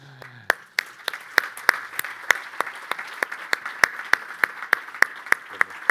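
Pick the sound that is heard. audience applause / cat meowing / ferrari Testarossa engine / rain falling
audience applause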